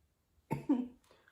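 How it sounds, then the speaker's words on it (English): A single short cough right after face powder is inhaled, close and clear, in a double burst followed by a faint trailing breath. "I don't think I've ever put powder on my face and not coughed from inhaling it"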